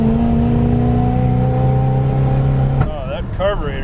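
An Oldsmobile 98 with a formerly seized engine and a rough carburetor holds a loud, steady drone, then its pitch wobbles and surges unevenly as the revs rise and fall.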